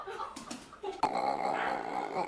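A dog growls low and continuously, rumbling steadily after a couple of short yips at the start, close and fairly loud.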